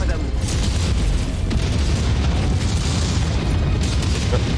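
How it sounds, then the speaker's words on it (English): Mech explosions in the video game MechWarrior 5: Mercenaries, a dense run of heavy booms and bursts layered over continuous rumbling battle noise, loud and sustained throughout with a voice talking over it. "Look at the explosions."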